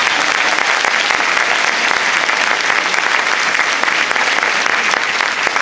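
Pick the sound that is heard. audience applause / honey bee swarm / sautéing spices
audience applause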